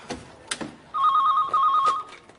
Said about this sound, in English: Hello, Eric Slat's phone